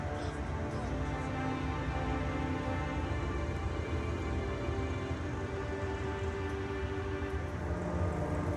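Onboard an Amtrak Pennsylvanian passenger train pulling out of Lancaster, Pennsylvania, a steady loud rumble and hum of the rolling car fills the scene without a break.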